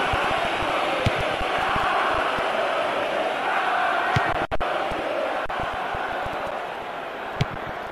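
A stadium crowd in the football video game PES 2022 applauds and roars in a continuous broad wash of noise, with occasional sharp clicks and thumps breaking through.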